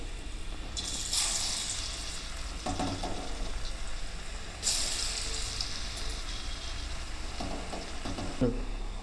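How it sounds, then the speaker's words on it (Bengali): Lentil cakes (dhoka) frying in mustard oil, close hissing sizzle that surges in bursts as each piece is added, with scraping and clinks between. "এইবার আমি একটা একটা করে ধোকাগুলোকে সব ভেজে নেব"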